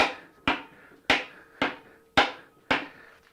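Six sharp metallic hammer strikes on a Honda CB350 motorcycle engine case being split, evenly spaced about half a second apart, each ringing briefly before fading. No voices.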